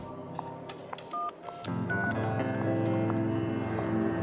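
A telephone is dialed, with several short separate keypad tones beeping one by one, followed by a steady ringing or line tone that holds to the end.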